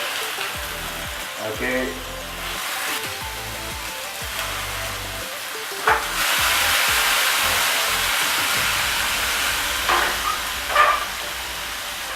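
Chicken and sausage meat sizzles in a hot pan for a healthy spaghetti dish, a steady close frying hiss with occasional stirring clatter and a few brief spoken words.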